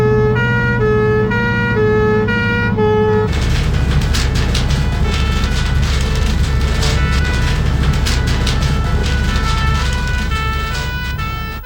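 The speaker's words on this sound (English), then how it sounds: "Pump engines weigh 10 tonnes empty, and with a full load, the driver has to control a 13-tonne vehicle at speed." Fire engine siren wailing loud and close on a fully loaded 13-tonne pump engine racing at speed, a steady two-tone pattern giving way to a dense, rising-and-falling wail over heavy road and engine roar.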